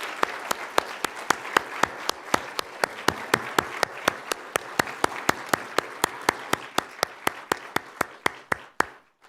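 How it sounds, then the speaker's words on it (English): Rhythmic clapping at a poetry recitation state finals, steady evenly spaced claps lasting about nine seconds under a softer bed of crowd applause, fading at the end. "Let's have another big round of applause for all of our students."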